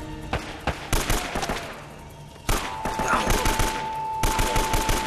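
Rapid bursts of automatic gunfire in the video game Uncharted, loud and close, with repeated volleys and sharp individual shots, plus faint game voices underneath.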